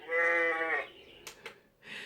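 A sheep on a farm gives one loud, wavering bleat up close, followed by a few brief soft rustles and breaths in a quiet setting.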